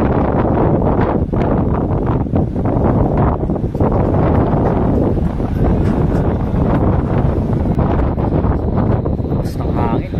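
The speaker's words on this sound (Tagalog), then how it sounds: "Basta ang hangin." Strong wind blows at sea on a cruise ship during a transatlantic crossing, roaring and buffeting the microphone without pause.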